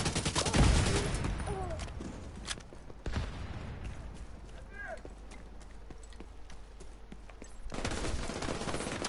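Rapid gunshots with fire bullets crack in quick, uneven bursts in a free-aim shooting game, with horse hooves clopping and a voice talking throughout.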